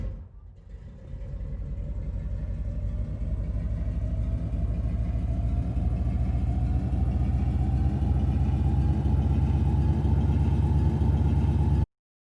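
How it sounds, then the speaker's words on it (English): A looped tank engine from a Unity and Wwise game demo drones as a loud, continuous low rumble whose pitch climbs slowly and smoothly, as if speeding up, then cuts off abruptly at the end. "taking the basic engine sound and choosing exactly the right place to loop it"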